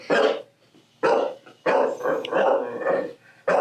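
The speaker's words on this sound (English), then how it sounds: "Rocky, stop it. Rocky, no bark." A pet dog named Rocky barks loudly and close by in several sharp bursts, with short pauses between them, heard indoors.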